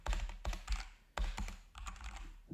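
A computer keyboard is tapped in a few quick bursts of keystrokes, close and fairly quiet, with short gaps between clusters and no talking.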